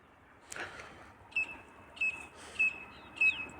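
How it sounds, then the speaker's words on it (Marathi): Faint bird chirps on a cold winter morning over farm fields at sunrise, a few short tweets repeating at roughly even intervals above quiet background hiss. "पक्ष्याचाही किलकिलाट आपल्याला ऐकायला मिळत आहे."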